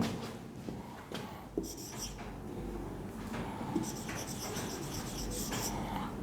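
A pen writing on paper while an English job application letter is drafted, giving soft continuous scratching strokes in short bursts, close and quiet, with faint background voices.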